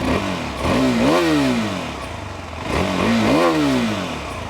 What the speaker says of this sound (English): Let's hear the same for the 390 Adventure.